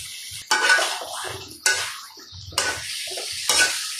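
Potatoes going into a cooking pot for a fish curry with potato and tomato: four sharp clattering impacts with bursts of hiss and sizzle, each fading before the next, close and fairly loud with no voices.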